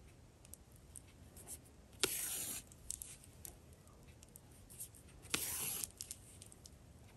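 Quilted fabric pot holder squares sewn together by hand in basic square-inch quilting, with two brief rasping pulls of thread through cloth over faint, quiet rustling.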